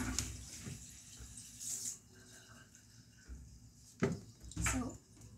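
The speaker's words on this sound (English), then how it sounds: "Wash the toilet." Water running and splashing while a toilet is washed, faint and uneven, with a few louder gushes and spatters near the end.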